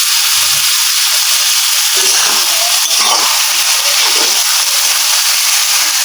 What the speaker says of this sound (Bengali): পেঁয়াজটাকে এইভাবে নেড়ে নেড়ে বেরেস্তা করে নিচ্ছি।